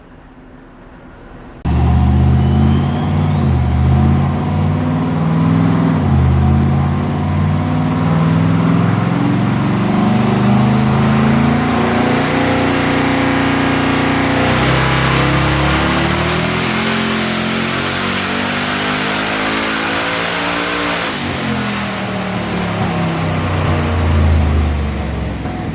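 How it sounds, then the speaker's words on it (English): A turbocharged car on a dyno making a full pull with swapped turbos, the engine roaring loud and close as it climbs steadily in pitch for over twenty seconds, dropping briefly mid-run, with no talk. "Just swap the turbos and making a pull on the dyno without changing anything else."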